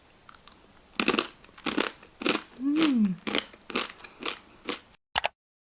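Crisp Korean snack crunched in a series of close, sharp bites and chews, each burst separated by short pauses, with no talk.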